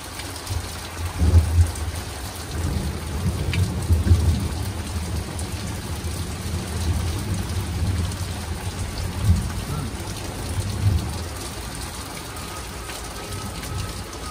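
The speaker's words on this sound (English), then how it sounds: "That's never a good thing we have a thunderstorm. Lots of lightning." Steady heavy rain pours during a thunderstorm with frequent lightning, with low rumbles of thunder swelling several times beneath the constant hiss, heard outdoors at night with no clear talk.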